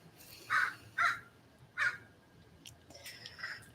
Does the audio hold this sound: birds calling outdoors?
yes